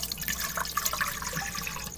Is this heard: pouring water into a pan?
yes